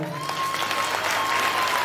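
An audience at a Home Minister event in Dharashiv clapping together, a dense, steady wash of applause filling the whole short stretch, with a faint tone running beneath.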